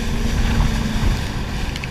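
A jet ski engine drones steadily on open water as the rider eases off the throttle and turns. The loud low rumble is mixed with wind buffeting and water spray, with no talking.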